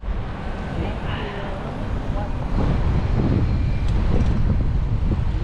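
Wind roars and buffets steadily around the microphone during a group bicycle ride at Bahrain Bay. The low, rumbling gusts grow slightly stronger partway through and continue without pause.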